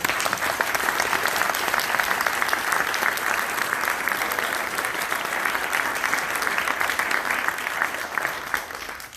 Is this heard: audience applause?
yes